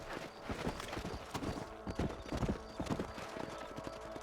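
Horse hooves clip-clop in the Red Dead Redemption video game, a quick uneven run of mid-distance hoofbeats with a faint whinny and some light game ambience behind.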